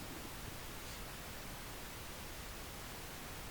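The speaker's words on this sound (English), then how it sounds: "Pull in some pink noise here that you can hear." A steady pink noise test signal is fed through bus compressors, SSL The Bus+ against the Warm Bus-Comp, a constant even hiss with no breaks, at low level.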